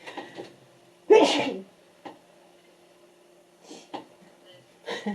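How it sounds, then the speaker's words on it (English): A single loud, close sneeze bursts out after a brief breath, followed by quiet stillness and a couple of faint clicks and small sounds. "Oh, excuse me, I'm going to sneeze."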